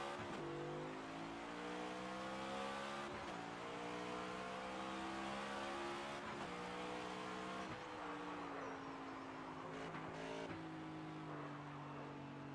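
A NASCAR race car engine in NASCAR 25, driven backwards around the track, roars and revs continuously, its pitch climbing and dropping through several gear shifts, with occasional bumps and tire noise.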